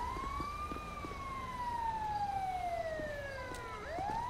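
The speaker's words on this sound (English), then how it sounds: "the fire truck has arrived before the ambulance" A video game fire truck siren wails, sweeping up and down in pitch, loud and continuous, then drops sharply before rising again near the end.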